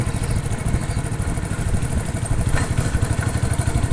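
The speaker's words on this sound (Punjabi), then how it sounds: "ਹੁਣ ਮੋੜ ਮੁੜਾਂਗੇ ਮੋਟਰਸਾਈਕਲ ਸਲੋ ਕਰਨਾ ਪੈ ਗਿਆ" A motorcycle engine runs steady and close, with a low throbbing rumble and slight clatter as the rider slows for a turn on a village road, with no voices.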